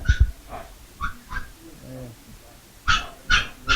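Small Chihuahua dogs barking in a grooming shop, a few short sharp yaps near and far with brief whimpers between, alongside quiet talk.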